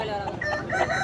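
A rooster at a village poultry market in Vaddadi, crowing and clucking nearby amid a continuous murmur of market noise.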